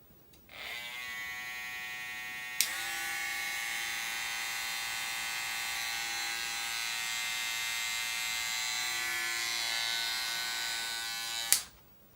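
Modified Andis T-Outliner hair trimmers running, a loud steady electric buzz switched on with a click, a second unit joining partway through with a deeper hum, then both clicked off, close by with no talking.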